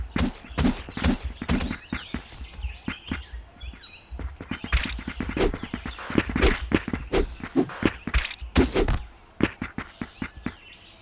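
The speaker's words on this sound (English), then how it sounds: "We can hear the footsteps clearly." Footsteps of enemy characters in a Unity game, played back through Wwise: steady, rhythmic thudding steps close by with sharp transients, heard over light ambient game sound with faint chirping.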